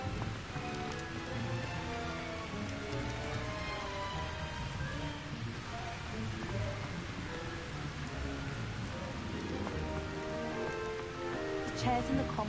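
Steady rain falls continuously, a dense even patter on surfaces with no pauses, moderately loud, with faint tonal sounds mixed underneath.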